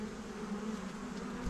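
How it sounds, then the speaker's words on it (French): Honeybee drone buzzing at the entrance of a hive housing a young colony, a steady close droning hum that holds for the whole moment, swelling slightly at the end. "voyez le faux bourdon qui est là"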